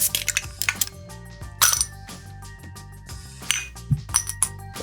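Several bright glass clinks ring out, a cluster at the start and more scattered through, with light clatter and handling noise between them.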